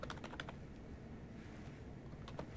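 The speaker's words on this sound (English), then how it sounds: "I'll immediately start typing some text" Close, quiet clatter of keys on a computer keyboard in quick clusters, with a short pause in the middle, then a few more taps over a low steady background hum.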